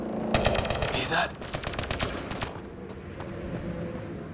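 Rapid automatic gunfire in the sci-fi video game Mass Effect Andromeda, dense bursts of shots for a couple of seconds that then thin into a rumbling firefight background, with game sound effects throughout.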